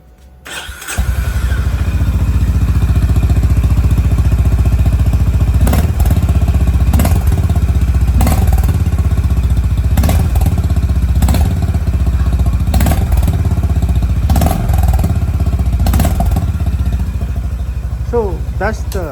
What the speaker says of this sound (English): so that's the exhaust note of Highness